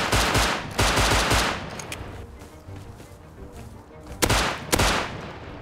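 Bursts of rapid automatic gunfire in the survival game Rust, loud and close, with a quieter gap in the middle before more sharp shots ring out near the end.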